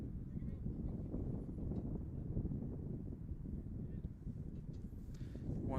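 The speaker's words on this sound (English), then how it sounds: "It's quite windy here." Steady wind roars across an outdoor football field during a boys' soccer combine in Toronto, a continuous low buffeting rumble on the microphone with faint distant game activity underneath.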